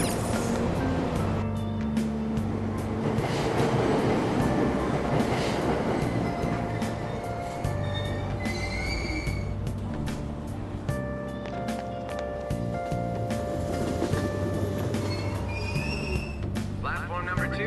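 A subway train departs a station in the video game Persona 5, with a steady, loud rumble and clattering wheels running throughout and faint tonal squeals over the top.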